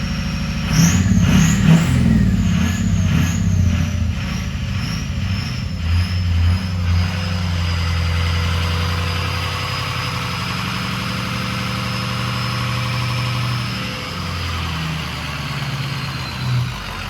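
A Ford 6.0 Powerstroke diesel engine fires up and settles into a steady, loud idle close by, with a rough, rumbling revving burst at the start.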